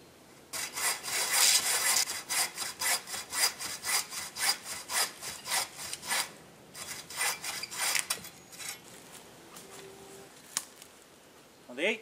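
An 18-inch hand saw cuts through wood in steady, rhythmic back-and-forth strokes, loud and close, with a short pause near the end before a final stroke or two.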